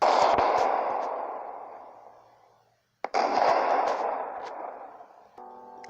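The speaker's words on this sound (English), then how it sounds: "Two explosions." Two deep explosions from a torpedo strike on the ocean liner Lusitania, each a loud, booming blast that rumbles and slowly fades, the second following about three seconds after the first, alone without any voices.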